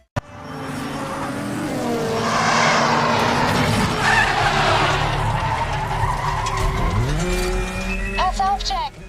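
Car tires skidding and squealing during a street race across the United States in a Need for Speed video game, with a loud engine roar that builds and holds for several seconds before a final squeal and clatter.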